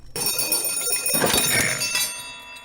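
A bell rung in a scene from the Korean film The Handmaiden, struck sharply with bright, sustained metallic ringing that fills the stretch and fades slowly, heard loud and close with no talk over it.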